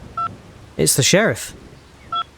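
In The American Dream video game, a phone gives short electronic ring tones, one near the start and another near the end, with a voice speaking briefly between them.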